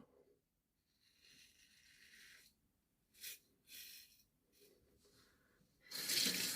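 Water from a tap runs in several bursts to rinse a razor blade during a shave, with short splashing spurts between quiet gaps and a louder, fuller gush at the end.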